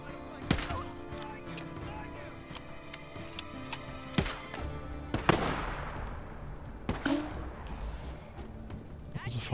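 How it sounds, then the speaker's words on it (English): Slow-motion gunfire in the video game Days Gone: sharp, booming shots ring out one at a time, irregularly spaced with stretched, smeared tails, over a low background hum and a faint voice. "Slow motion gunfire"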